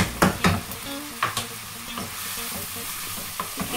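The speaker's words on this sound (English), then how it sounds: "Give it a stir." Oxtail being stirred in a pot for Congolese mikila, with spoon scrapes and knocks against the pot over a soft continuous sizzle.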